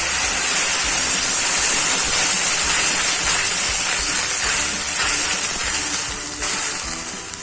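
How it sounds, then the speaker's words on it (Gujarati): A cup of water poured into a hot pan of fried ginger-garlic-chili paste, for a semolina and potato snack, sets off a loud, steady sizzling hiss that carries through the whole stretch and eases slightly near the end. "હવે આપણે 1 કપ પાણી ઉમેરવાનું છે"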